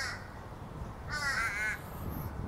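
A crow caws once outdoors near town cafes and shops, a single harsh, fairly clear call over a low ambient street rumble.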